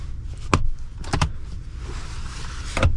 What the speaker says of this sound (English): We got our cup holders here, which slide out.